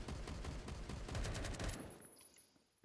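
A dense burst of rapid gunfire in the video game Phantom Forces crackles for nearly two seconds, then cuts off and fades into a quieter tail.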